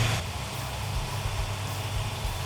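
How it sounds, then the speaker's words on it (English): Low rumbling idle of a freshly started Dodge Challenger engine, a steady deep drone with slight pulsing, fairly quiet and unbroken, with no voices. "The engine runs absolutely fantastic"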